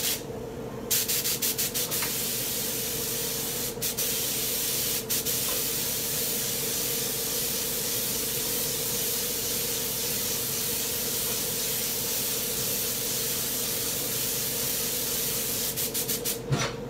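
Steady, continuous hiss of an airbrush spraying purple Tamco paint onto a diamond-pattern deck, loud and close, with a few short pauses near the start and end.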